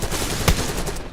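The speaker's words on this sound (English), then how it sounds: "loud gunshots" Gunfire in the video game Black Ops 6, a single sharp, loud shot standing out from a busy rattle of in-game noise in a brief burst.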